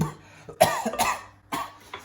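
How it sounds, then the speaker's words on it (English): A few harsh coughs in quick succession, close and fairly loud, with brief pauses between bursts. "literally breathing in the fumes and then coughing back into the sauce"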